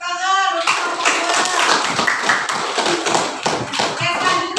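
Children in a classroom coding lesson clap for a group, a dense burst of rapid, close hand claps lasting several seconds, with children's voices mixed in and a brief tone at the start.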